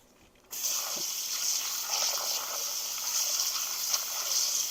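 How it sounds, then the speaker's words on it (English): Water suddenly gushes from a kitchen sink tap onto raw chicken being rinsed for curry, a steady loud splashing stream with small sloshing bursts as the pieces are moved about. "Now I'm going to take it over to the sink, put a little water on it, wash it up real good."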